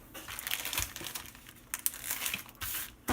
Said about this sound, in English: we're going to put it in plastic bags